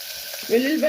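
Onions and garlic hitting hot oil in a pressure cooker pan for a curry, a brief close sizzle that flares up as they go in, with no speech.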